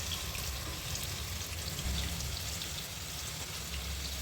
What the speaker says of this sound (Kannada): ಎಲ್ಲ ಉಂಡೆನೂ ಒಂದೇ ಸಾರಿ ಈ ಥರ ಹಾಕ್ಕೊಂಡು ಹುರ್ಕೋತಾ ಇದ್ದೀನಿ